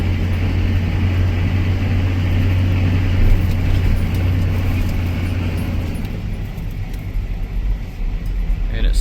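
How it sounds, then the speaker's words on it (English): LB7 Duramax diesel truck pulling away and shifting into second gear, a loud steady low engine drone with road noise that eases slightly as the revs drop after the shift, no voices over it. "Shifts into second."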